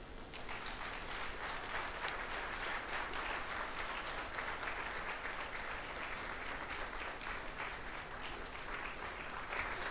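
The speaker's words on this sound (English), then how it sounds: "Ladies and gentlemen, a standing ovation," Sustained, even audience applause follows a university inaugural lecture in Kenya, many hands clapping steadily and somewhat distant for the full stretch, with no voices rising above it.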